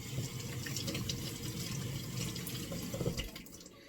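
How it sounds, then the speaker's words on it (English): Tap water running steadily into a sink while a toy doll with long hair is rinsed under it, a continuous close splashing flow that eases off at the end. "Now we're going to rinse it."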